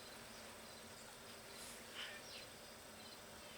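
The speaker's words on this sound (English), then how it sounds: "There's 50, 60 bees on this thing" Bees buzz continuously around sunflowers in the sun, a soft, dense hum from dozens of insects with a few nearer passes swelling briefly, otherwise faint and steady.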